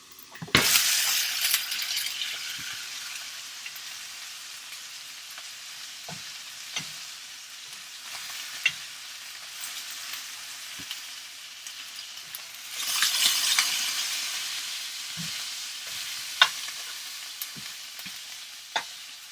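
Low-carb cabbage rolls fry in a hot pan with a continuous close sizzle, swelling at the start and again midway, dotted with occasional light clinks.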